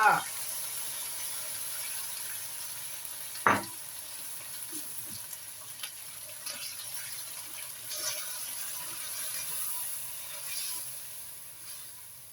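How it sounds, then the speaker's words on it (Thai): Minced pork frying in a pan with tamarind water poured in, for nam prik jaeo bong: a faint, steady, low sizzle with one brief knock early on. "ใส่น้ำมะขามเปียกเข้าไปได้เลยจ้า"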